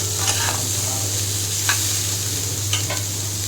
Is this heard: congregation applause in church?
no